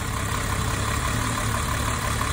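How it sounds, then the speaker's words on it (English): A Mercedes-Benz 113 engine idles steadily during a split fuel linkage test, a constant dense rumble with an even, unbroken drone and no talk. "and the engine slows a little"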